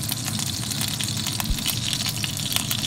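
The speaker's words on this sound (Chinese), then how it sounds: "把姜和葱头给它爆香" Ginger and scallion frying in a little oil in a wok for braised pork ribs with fermented bean curd, a steady close sizzle and crackle with no talk.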